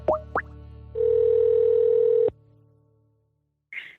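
A steady telephone dial tone sounds while a podcast host calls a guest to bring her on the line, preceded by two short chirps and fading out, followed by a brief faint blip.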